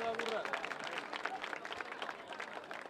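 Audience applause for a band at the Federico Rizzi music contest, a steady mass of clapping with a crowd murmur, moderately distant and continuous throughout.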